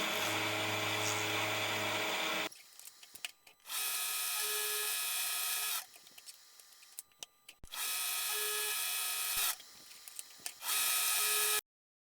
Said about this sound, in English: I'm taking it over to the mill and I'm going to mill some flutes into it